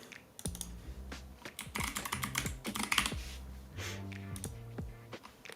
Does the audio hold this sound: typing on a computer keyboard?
yes